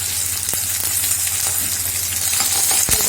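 Curry leaves crackle and sizzle hard in hot oil in a frying pan, a steady bright spitting hiss with sharp pops scattered throughout, close and loud, no voices.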